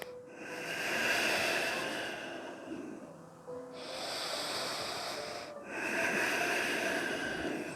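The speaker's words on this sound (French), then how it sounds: "En faisant du bruit avec l'arrière-nez, ça s'appelle le bruit du Ujjayi, qui permet une respiration intense et bien contrôlée." Ujjayi breathing during a yoga sequence, air drawn and pushed through the back of the nose with a hissing, oceanic rasp, in several long, slow, close breaths separated by brief pauses.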